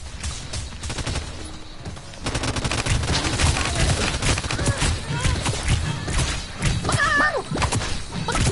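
Turret gunfire in the Realm Royale battle royale game, dense repeated shots over a busy mix of game effects, loud and continuous for most of the stretch with a brief lull early on.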